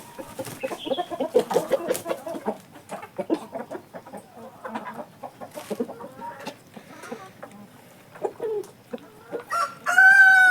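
Laying hens on a poultry farm cluck and squawk in a busy, overlapping chorus, with a loud, drawn-out call rising at the very end.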